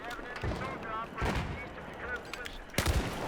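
Scattered gunshots from the shooter game Battlefield 4 crack out in a few sharp bursts amid busy in-game battle noise, fairly quiet overall.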